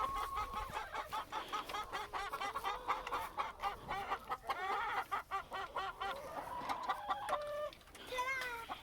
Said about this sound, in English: when we have the chickens closed up like this, they are noisy